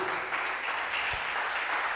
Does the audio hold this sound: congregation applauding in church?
yes